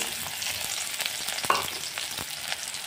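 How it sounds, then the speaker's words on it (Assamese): Steady, close hiss and crackle of onion frying in hot mustard oil, with a few sharp clicks of stirring. No voices. "তেল গৰম হৈ গ'ল, তেলত দি আছোঁ এটা পিঁয়াজ কাটি।"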